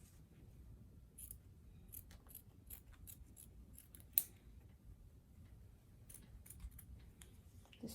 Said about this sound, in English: Just trying to cut all the excess material out.